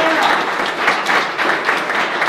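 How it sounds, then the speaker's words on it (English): Live audience applause at an event honouring guests from a College of Business Administration, steady, loud and continuous clapping from a crowd throughout. "Give them a round of applause."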